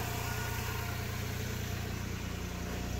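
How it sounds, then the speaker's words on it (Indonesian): A small-engined used car sits idling smoothly, a steady even hum and low rumble holding constant at close range with no talk. "coba kita nyalakan mesinnya halus banget"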